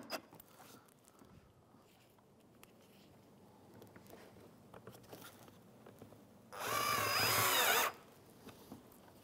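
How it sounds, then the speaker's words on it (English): A power drill drives Phillips screws back into the front lower grille of a 2011-2016 Hyundai Elantra, one loud whirring burst of about a second amid quiet handling noise. "So now we can reinstall our Phillips screws."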